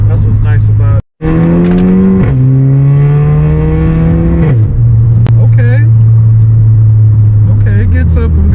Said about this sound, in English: hearing the exhaust and everything, it just makes the right sounds.